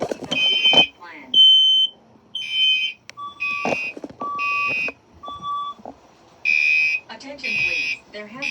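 A building fire alarm sounds in repeated bursts of sharp electronic beeps, separated by short gaps, loud and close, with an automated voice making announcements between the tones.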